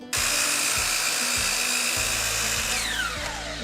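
A power tool whines loudly and steadily while cutting wood pieces for a birdhouse. The pitched motor tone holds over a repeated low rhythmic thud, then the pitch drops away near the end.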